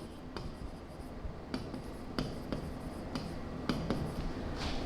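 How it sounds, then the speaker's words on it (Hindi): Writing on a screen during an English grammar lesson, heard as scattered soft taps and short scratchy strokes spaced about a second apart over a steady background hiss, fairly quiet and with no talking. "वो मैं यहाँ लिख रहा हूँ स्क्रीन पर आपके लिए।"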